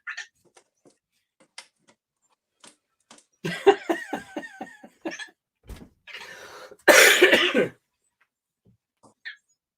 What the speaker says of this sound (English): Yeah, I'm coughing, but that's just normal for me.